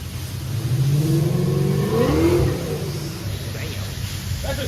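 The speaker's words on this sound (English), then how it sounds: "That's a turbo, bro." A turbocharged car, a Subaru WRX Stage 2+ or BMW 535i Stage 2, accelerates loudly nearby, its engine rising in pitch and then easing off as it passes, while people talk over it.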